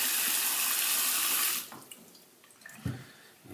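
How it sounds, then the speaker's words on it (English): Hot water runs from a tap into a shaving scuttle, a loud steady broadband rush for about a second and a half that then cuts off, followed by quieter drips and a small clunk. "I'm just going to refill the inner part with hot water"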